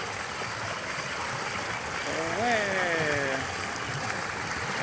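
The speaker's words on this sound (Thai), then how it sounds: "ดูครับน้ำตกครับ" A natural stream and waterfall beside a forest campsite rush with a steady broadband water roar, while a voice briefly exclaims over it midway.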